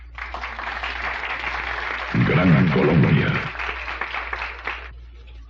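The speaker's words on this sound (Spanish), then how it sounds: "Y otro aplauso para quienes componen la mejor orquesta de la capital." An audience applauds a capital-city cumbia orchestra, Salgado Jr., steady clapping over a low hum for several seconds, with a voice speaking over the middle before the clapping tapers off.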